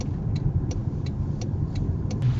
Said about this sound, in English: You can hear the sound of my car's engine rising in my attempt to accelerate more, and the sound lowering again when I was held back.